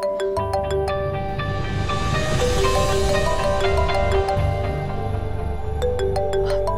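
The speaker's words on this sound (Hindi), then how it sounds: "तुम्हारा फोन मैं देखती हूँ।" A phone ringtone plays as a repeating chiming melody, loud and close, ringing on for several seconds without any speech.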